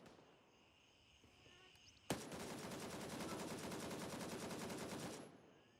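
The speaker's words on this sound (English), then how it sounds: "I'll get more kills than you just by hip firing this AK." An AK rifle hip-fired in the video game Gray Zone Warfare: a sudden sustained burst of rapid automatic gunfire lasting about three seconds, loud against a quiet background with faint insect-like ambience.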